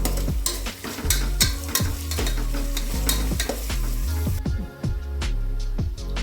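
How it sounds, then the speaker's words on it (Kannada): Onions fry in a pan for chicken donne biryani, giving a steady close sizzle broken by repeated rhythmic scrapes and clacks of stirring, with no voices. "ಇದನ್ನು ಫ್ರೈ ಮಾಡ್ಕೊಳ್ಳೋಣ"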